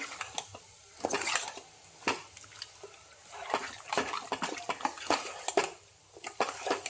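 Squid pieces are stirred with crushed garlic, garam masala and other spices in a pan, giving close scraping and clinking from a spoon against metal in irregular bursts, with soft wet shuffles between strokes and no voices.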